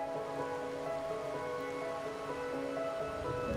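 Steady rain falls in the video game Wuthering Waves, a constant dense patter of drops on a surface that stays even and continuous throughout, with no voices.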